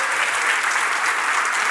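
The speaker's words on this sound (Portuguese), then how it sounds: "Pode aplaudir Jesus poderoso." Dense, steady applause from a church congregation during a sermon, a continuous wash of many hands clapping at even loudness throughout the short stretch.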